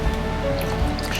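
Surfactant is poured into a pan of water for gold panning, giving brief liquid drips and squishy splashes close by, with no voices.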